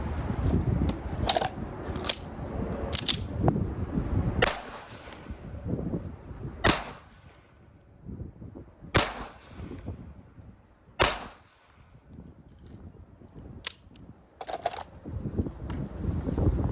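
A Springfield Prodigy 1911DS pistol fitted with an extended firing pin and extra power spring empties a magazine at a range, giving about eight sharp, loud gunshots at uneven intervals over a steady background rumble.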